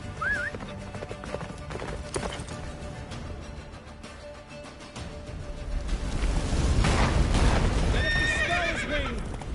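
Roach the horse gallops at speed in The Witcher 3, steady hoofbeats drumming under swelling wind and battle noise, with a couple of sharp neighs and whinnies near the start and end.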